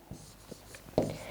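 Chalk or marker taps and scratches on a board during a lecture on the muscular system, a few quiet, brief strokes with one louder scrape near the end, faint and close.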